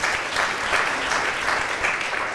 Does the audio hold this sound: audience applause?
yes